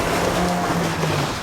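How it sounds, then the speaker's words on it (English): A Mazda MX-5 Miata drives steadily on a snowy road with a continuous engine drone and road rumble, tires hissing over the surface throughout. "now I'm going to drive it in the snowy roads and ruin my pristine car"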